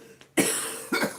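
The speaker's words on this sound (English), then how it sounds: "me coughing on this cigarette" Two harsh, close coughs from someone smoking a cigarette, a longer raspy one followed quickly by a shorter second bark.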